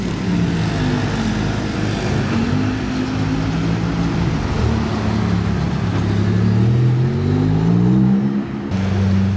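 A Lamborghini Aventador V12 revving nearby, a loud sustained engine drone with rising and falling pitch sweeps as the throttle opens and eases, running continuously throughout without speech.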